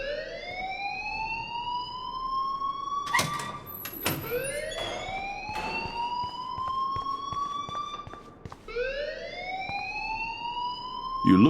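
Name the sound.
school fire alarm ringing in the video game Life is Strange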